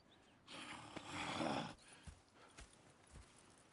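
A horse in a video game snorts and whinnies in a breathy burst, followed by a few soft hoof clops at a distance.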